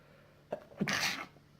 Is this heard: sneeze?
yes